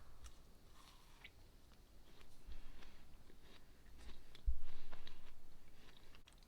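Homemade lemon and raspberry macarons being bitten and chewed close up, soft crunches and moist chewing repeating steadily for several seconds with no talk.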